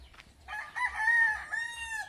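Chickens clucking and a rooster-like crow close by, short bursts of bird calls with no talking.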